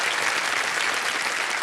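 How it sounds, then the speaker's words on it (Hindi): Steady applause from the studio audience of the quiz show Kaun Banega Crorepati, a dense wash of clapping holding at an even level throughout with no voices on top. "तालियां बजाना चाहेंगे आपके लिए।"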